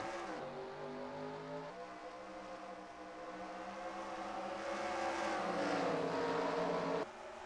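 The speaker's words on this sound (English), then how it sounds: "And you could hear it right there, the lifting of the throttle." A race car at Bristol roars at full throttle, its engine note climbing steadily, then dropping abruptly near the end as the driver lifts off. The engine is loud and close, with no talking.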